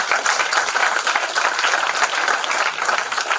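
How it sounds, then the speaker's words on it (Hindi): Audience applause after two young speakers at a lecture on Mahamana Malviya's philosophy of education, a steady, dense wash of clapping from a full hall, loud and unbroken with no voices over it. "इनके लिए तालियां आप"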